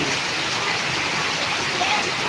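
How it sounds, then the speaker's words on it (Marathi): Heavy torrential downpour during extreme rainfall in Karnataka, a constant loud hiss of rain pounding surfaces close by, with a faint voice briefly beneath it. "या पावसाला काय नाव द्यायचं तुम्हीच सांगा मुसळधार पाऊस म्हणायचा का"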